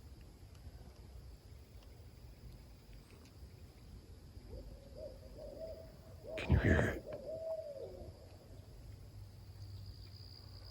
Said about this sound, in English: There's a giant owl over here making all kinds of racket.